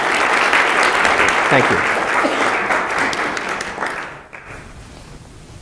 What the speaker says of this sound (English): If you could give him a nice round of applause, please.